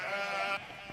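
A single sheep on a sheep farm gives one loud, close, wavering bleat that cuts off sharply, followed by faint background noise.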